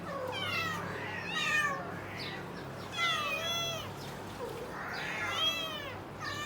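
A mother cat and her kitten, shut in during morning feeding time, meow back and forth in repeated rising and falling calls over a low background hum, with no talking.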